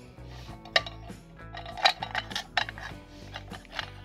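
A camping cook kit pan being handled and set onto a small stove, with a run of sharp metallic clinks and light rattles at close range, irregular and fairly quiet.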